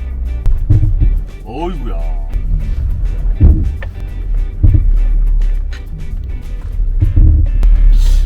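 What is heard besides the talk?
water sloshing inside Porsche Macan from clogged sunroof drain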